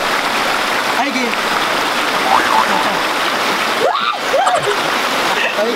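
A shallow stream in Leyte flows and splashes steadily throughout, a broad continuous wash of water, with people talking and calling out over it while they bathe.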